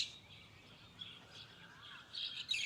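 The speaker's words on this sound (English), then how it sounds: "Lots of birds," Birds chirp and call faintly at a large temple complex near the port of Laem Chabang, with scattered tweets over quiet background.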